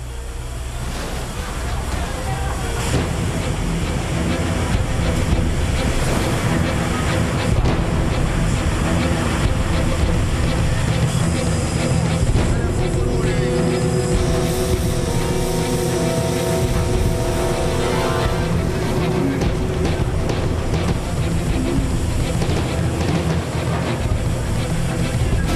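Roaring flood water sweeps a car away in a violent inundation, a loud continuous rushing torrent with churning surges throughout, no speech.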